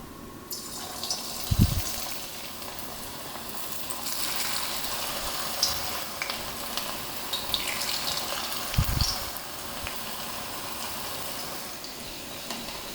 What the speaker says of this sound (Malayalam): എണ്ണ ചൂടായി വരുമ്പോൾ നമുക്ക് ചെറിയ ചെറിയ ഉരുളകളായിട്ട് ഇട്ട് കൊടുക്കാം.